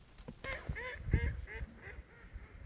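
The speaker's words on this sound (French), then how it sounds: "Là on a plein de canards. Il y a plein de colverts derrière." Several mallard ducks quack in a loose, overlapping series beside a pond, fairly close and moderately loud, with soft outdoor background between calls.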